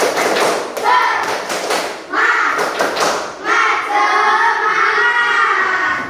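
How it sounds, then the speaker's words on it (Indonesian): Classroom of students performs the rhythmic 'tepuk semangat' spirit clap, sharp bursts of group claps mixed with loud chanted voices, close and lively. "Yuk, tepuk semangat."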